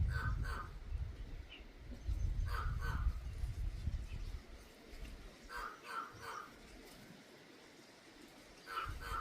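During a jungle hike, a crow gives several short, harsh caws, alone and in quick pairs, at moderate distance over a low, rustling outdoor background.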